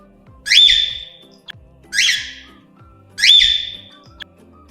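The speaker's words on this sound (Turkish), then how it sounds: "Papağanlar böyle ses çıkarır." Three loud, harsh parrot squawks ring out at a steady pace, each a raspy rising screech, alone over faint background noise.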